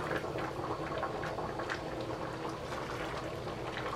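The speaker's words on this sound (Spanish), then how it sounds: "Unas dos tacitas de agua le voy a poner." Water added to a pan of simmering bistec ranchero, tomato-based beef stew, bubbling and sizzling steadily with a dense, continuous hiss and crackle throughout.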